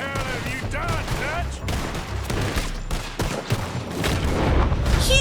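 Rapid gunfire in the Western video game Red Dead Redemption 2 during a daylight shootout with Pinkertons, a dense fusillade of close shots and booms mixed with shouting voices and game sounds.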